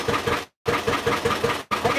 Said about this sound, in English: It's idling really good, but when you rev it up